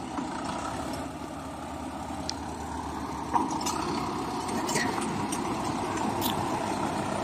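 A roughly 50-year-old Komatsu D50A bulldozer with an oil clutch, used for pushing stone piles, runs at a steady idle, a low continuous diesel rumble at moderate distance with a few faint clanks and knocks over it.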